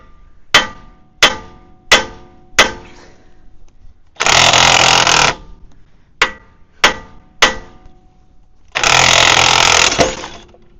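Tool driving the lower ball joint out of a 2007-2018 Jeep Wrangler JK front end: four sharp, ringing hammer-like impacts, a loud burst of continuous powered hammering, three more strikes and a second sustained burst, close and with no talk.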